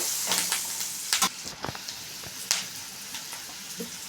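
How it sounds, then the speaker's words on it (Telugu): Ridge gourd pieces frying in a pan with salt and turmeric, giving a soft steady sizzle broken by sharp clicks and taps of stirring; close and fairly quiet, with no talking. "దీన్ని పట్టేలాగా కలుపుకున్నాక వేగనిద్దాము"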